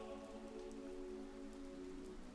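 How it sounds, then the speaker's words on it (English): Rain falling steadily as a soft, even wash of patter with a low background tone, faint and continuous with no voices. "The rain that is making you cool in your bed"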